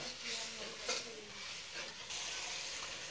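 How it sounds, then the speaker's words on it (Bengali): Masala spices frying in oil for a village-style curry, a soft steady sizzle with faint stirring scrapes, moderately quiet and continuous throughout. "মশলাটা কষানো হচ্ছে পাশে, একেবারে সেরকম কালার আসছে।"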